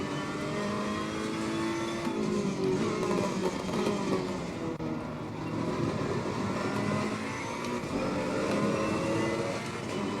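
A Ferrari 488 Evo GT3 race car engine in the racing game Assetto Corsa Competizione drones loudly and steadily throughout, its pitch shifting up and down as the car runs on track, with no voices over it.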